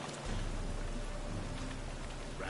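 Steady rain patters continuously in a video game, with a low rumble of thunder rolling underneath, evenly loud throughout with no talking.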